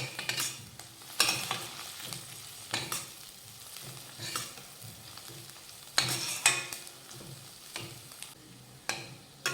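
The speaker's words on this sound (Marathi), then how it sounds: "आता यामध्ये घालूयात पाव चमचा हळद मिक्स करून घेऊयात" Leftover chapati crumbs get stirred with a quarter spoon of turmeric in a hot pan, giving a steady oily sizzle broken by sharp scraping strokes and clatters of the spatula at irregular intervals, up close with no talk.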